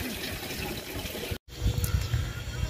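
Water poured onto potted plants outdoors after fertilizer is cleared away, a steady close splashing and trickling with a brief dropout midway.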